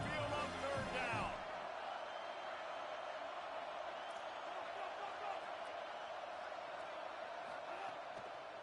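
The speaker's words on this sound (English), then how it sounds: "The Tide crowd rolling noise down onto Saban Field on 3rd down." A large Alabama Crimson Tide stadium crowd at Saban Field roars in a sustained, loud wash of noise on third down in a college football game, following a brief stretch of announcer talk.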